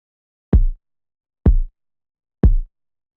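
Three deep, booming kick drum hits spaced about a second apart, each a punchy low thump with a short decay, alone with silence between.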